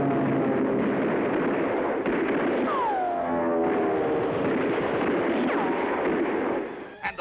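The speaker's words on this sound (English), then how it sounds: "Now the deadly stream of robot weapons zeroes in on the fleeing villain." Cartoon robot weapons fire a steady, loud blast stream at a fleeing villain, with sweeping descending zaps and whistles cutting through the continuous roar before it abruptly stops.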